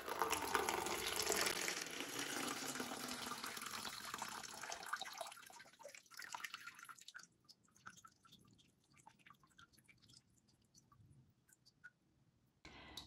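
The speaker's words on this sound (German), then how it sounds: "Und gieße auch schon das Wasser ab." Water pours out of an orchid's closed container in a loud, steady rushing stream for several seconds, then stops, leaving scattered drips and small clinks.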